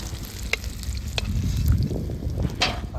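Chital fish sizzles as it fries in a pan, a steady close crackle with a few sharper pops and faint stirring knocks, heard without any talk.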